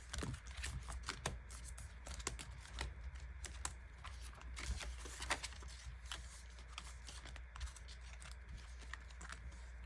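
Cash envelopes shuffled during low-income cash stuffing, giving faint, rapid papery taps and rustles that repeat irregularly over a quiet background.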